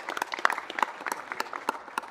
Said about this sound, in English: If we can clap it up.